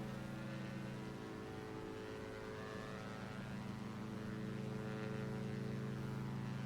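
Diamond DA62 twin-engine aircraft climbing out after takeoff in the X-Plane 11 flight simulator, a steady loud propeller and engine drone with layered harmonic hum holding constant throughout, no talking.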